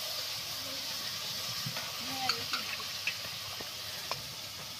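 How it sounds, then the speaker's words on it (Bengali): Spice masala being sautéed in a pan on a clay stove for a singi fish and potato curry, a soft continuous sizzle with occasional light stirring taps and clicks, fairly quiet. "তো এগুলোকে মশলাটাকে ভালো করে কষিয়ে নেবে"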